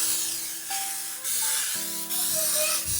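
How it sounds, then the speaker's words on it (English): Several hissing bursts of cooking spray from a can onto a pan, close by, with brief gaps between them and faint clinks underneath. "So we're gonna go ahead and spray it."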